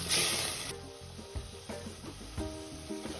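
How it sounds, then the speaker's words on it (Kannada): Ground raw masala paste fries in hot oil for mutton saaru, with a bright steady sizzle that flares at the start, then settles under intermittent stirring scrapes and clinks of a spoon against the pan. "ಎಣ್ಣೆ ಚೆನ್ನಾಗಿ ಬಿಸಿ ಆದಮೇಲೆ ನಾವು ರುಬ್ಕೊಂಡಿರೋಂತಹ ಹಸಿ ಮಸಾಲೆಯನ್ನು ಹಾಕಿ ಚೆನ್ನಾಗಿ ಫ್ರೈ ಮಾಡ್ಕೊಳ್ಳೋಣ"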